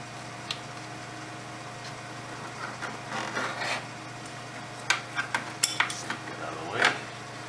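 Oil line coming off a 2006 Ford F350 diesel with a Sinister Diesel setup: scattered metallic clicks, taps and tool clinks against a steady low hum, growing busier toward the end.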